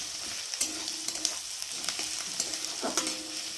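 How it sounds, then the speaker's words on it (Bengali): Chopped ginger and garlic fry in a pan with a constant gentle sizzle, broken by several short scraping stirs, close and low in volume. "এর মধ্যে এবার দিলাম আদা আর রসুন কুচি, দিয়ে এটাকে ভালো করে আরেকটু ভেজে নেব।"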